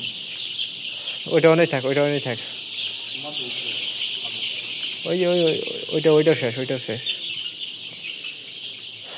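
Chickens in a poultry shed cluck around their water pots during vaccination, with two short bursts of clucking and squawks while someone speaks nearby.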